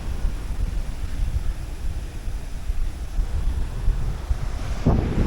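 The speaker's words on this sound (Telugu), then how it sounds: "చూడొచ్చు ఎట్లా ఎగిసి పడుతున్నాయి మొత్తం అలలు" Ocean waves surge and crash at Kovalam Beach in Kerala, a steady, loud roar of surf churned by gusting wind buffeting the microphone, with a sharper splash near the end.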